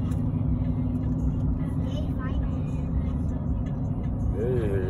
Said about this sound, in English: So we're driving toward Lucerne right now